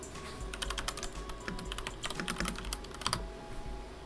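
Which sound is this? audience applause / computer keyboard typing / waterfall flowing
computer keyboard typing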